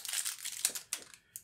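Plastic wrapping being pulled off a new Autel EVO drone during unboxing, a series of close, crisp crinkling and rustling bursts with short pauses between them.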